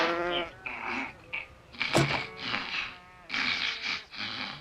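Sheep bleating in a cartoon, several wavering, nasal bleats in close succession, loud and near, broken by short pauses and one sharp burst in the middle.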